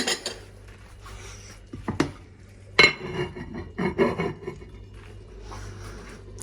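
A lid set onto a pot of young potatoes cooked with garlic scapes: a sharp metallic clank, then a few rattling scrapes and lighter knocks as it settles, with quieter clinks of utensils around it.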